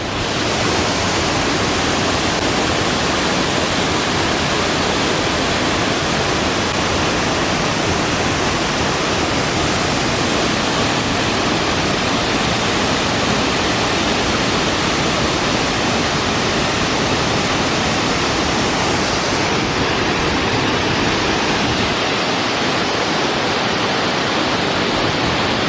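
Mantalaga Falls waterfall roars as a loud, steady broadband rush of falling water, continuous and unbroken with no voices.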